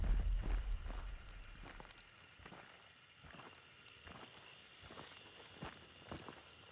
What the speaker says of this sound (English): You hear footsteps there.